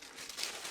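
A plastic bag crinkles and rustles up close in a steady, soft crackle that swells slightly toward the end, with no voices.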